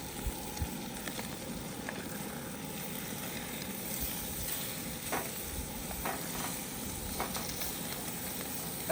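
Bacon sizzles and crackles steadily while it cooks, with a dense, even hiss and scattered pops running throughout. No one speaks.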